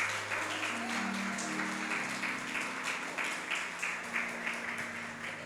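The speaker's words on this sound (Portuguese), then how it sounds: "Salva de palmas" Church congregation applause during a service, heard as steady, sustained clapping from many people. A faint sustained keyboard tone runs underneath, and there is no speech.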